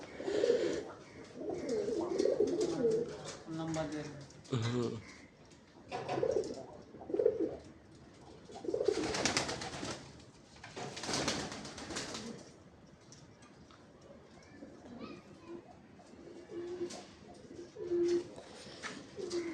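Many pigeons cooing steadily at a pigeon farm with paired nesting boxes, overlapping soft coos and occasional calls close by, with bursts of louder activity midway and brief voices in the background.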